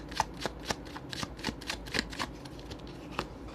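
A deck of tarot cards being shuffled for a relationship reading, with a steady run of crisp riffling flicks and soft card slaps close by, quiet and free of talk.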